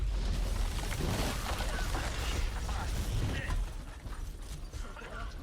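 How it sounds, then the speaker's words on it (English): Building collapse in the video game Medal of Honor (2010): a dense, loud rumbling roar of crumbling debris that fills the whole stretch, easing slightly in its final seconds. "Building collapsing."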